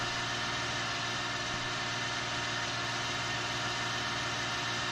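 A John Deere 7R tractor in a farming video game idles with a constant, steady engine drone and a low hum, unchanging and alone.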